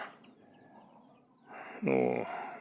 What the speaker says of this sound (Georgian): ახლა თქვენ ხედავთ როგორ მოძრაობენ ქათმები გვირაბში